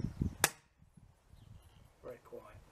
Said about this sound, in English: What I do like about this rifle, it's really quiet.